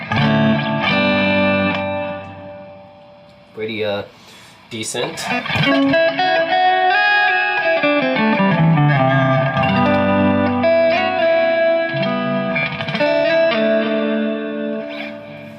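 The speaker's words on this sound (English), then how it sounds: "Okay, so that's hall reverb." Electric guitar through an Electro-Harmonix Oceans 3-Verb pedal on its hall reverb setting, close and loud, ringing chords with long washy tails, a short gap near the start, and a voice speaking briefly.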